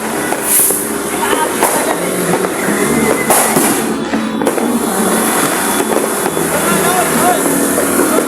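New Year's fireworks boom and crackle outdoors continuously, a dense barrage of bangs with voices talking underneath.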